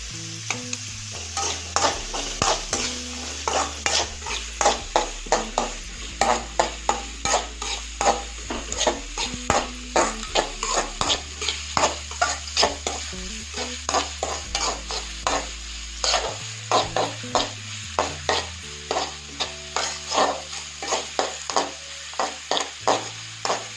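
Onions fry in a pan while a spoon stirs them, an ongoing sizzle under rapid, rhythmic scraping and clinking strokes, close and fairly loud, with no talking.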